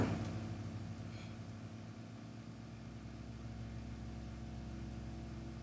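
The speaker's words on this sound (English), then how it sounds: "if you can hear that construction work noise going on in the background" Street construction work drones on steadily in the background, a low engine-like rumble of machinery running continuously at moderate distance with no speech over it.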